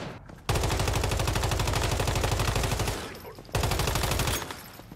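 A new legendary rifle in the video game Once Human fires two long, rapid automatic bursts, each a dense string of sharp shots, loud and close with a short pause between them.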